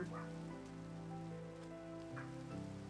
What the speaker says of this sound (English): And it starts to rain.